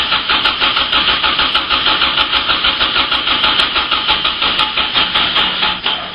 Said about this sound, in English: Just going to give it a crank now. The coil lead's disconnected so she won't start